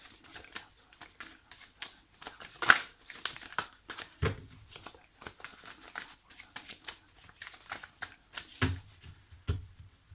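Oracle cards are shuffled by hand in repeated quick riffles and slides, crisp and close, with short pauses between bursts and no talking.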